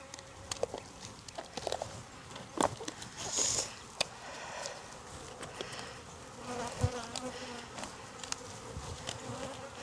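Bees buzz steadily around an open beehive at an apiary in Jacksonville, Florida, a close, continuous drone with scattered light taps and rustles.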